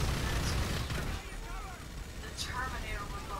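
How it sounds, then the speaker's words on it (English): A minigun loaded with explosive rounds roars in GTA V, dense booming fire that is loudest at first and then settles into a steady rumble of blasts, with no voice over it. "Which is why I'm using the minigun"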